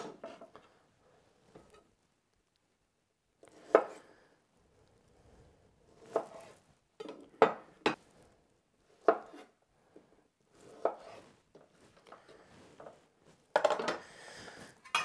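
Knife halving small Brussels sprouts on a cutting board, a series of soft chops and taps spaced out with pauses, close by in a quiet kitchen.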